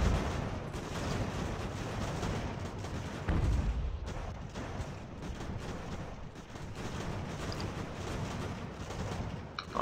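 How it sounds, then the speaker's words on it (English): Booming 12-pounder cannon artillery fire in the strategy game Ultimate General: American Revolution, a dense rumbling barrage with a heavy low thump around the middle, continuing steadily throughout. "This is one of our 12-pounders."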